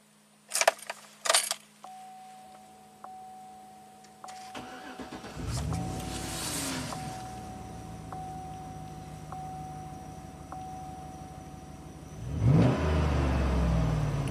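A GM truck engine cranks and starts after a jingle of keys and a door clunk, idles with a faint steady chime, then revs up loudly near the end, close and without talk.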